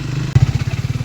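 A Triumph Speed 400 motorcycle idles nearby, its exhaust giving a steady, fast low thumping pulse after a brief blip, loud and close for about a second.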